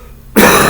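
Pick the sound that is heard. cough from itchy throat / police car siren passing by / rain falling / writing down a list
cough from itchy throat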